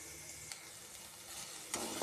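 Onion for dry cabbage sabzi is tossed in a pan with no oil, a faint dry sizzle with soft stirring scrapes and a louder clatter near the end.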